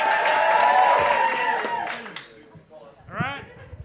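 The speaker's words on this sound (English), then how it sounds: "Thanks for clapping all the way to the microphone." A stand-up comedy audience claps loudly and steadily as the comedian walks to the microphone, then the applause fades out and he begins speaking close up.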